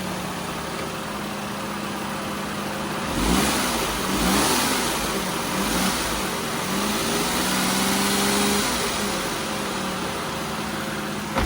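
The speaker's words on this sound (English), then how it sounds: "Just give it a couple revs." A Japanese kei car at a car yard in Osaka idles, then its engine is revved a couple of times, rising and falling before settling back to idle, heard close with no talk.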